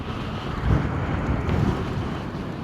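Steady wind roar buffets the microphone while riding an Angwatt C1 Max electric scooter, a continuous broadband rush with small gusts and no voices.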